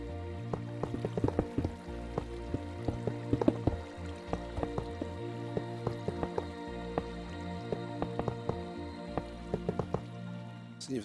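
Flowing water in Minecraft, with dripping, splashing pops and small trickles over a steady low wash of water, fairly faint and continuous.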